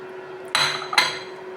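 Crushed ingredients for a Kerala-style sardine curry with kudampuli tip into two spoons of hot oil in a pan, giving two quick bursts of loud sizzle and a metal clink, then fading back to a faint background hum.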